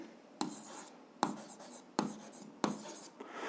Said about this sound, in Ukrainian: Записуємо, або давайте так запишемо.